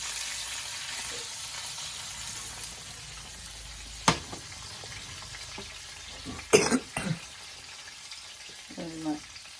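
Steak pan-searing with garlic gives a steady low sizzle across the whole stretch, broken by a sharp clack, a louder burst of spattering and crackle, and a brief throat-clearing sound near the end.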